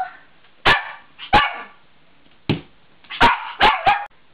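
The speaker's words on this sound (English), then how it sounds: "We have a serious puppy infestation on our hands here" Several puppies yip and bark in short sharp bursts, a pair of barks and then a quick cluster of three, loud and close with brief quiet gaps between.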